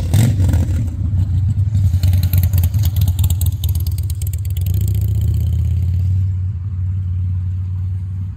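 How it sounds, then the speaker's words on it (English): A motorcycle engine drones loud and steady nearby, its mid-pitched rumble swelling and easing as the bike passes back and forth, with rattling clatter over the first few seconds. "And keeps driving back and forth with a motorcycle"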